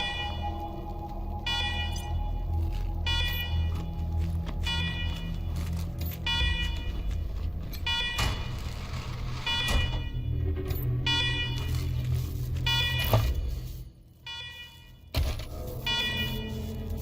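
Alarms blare inside a secured bunker facility in Wasteland 3: loud, repeating electronic beeps pulse in steady bursts over a constant low droning hum, dropping out briefly near the end.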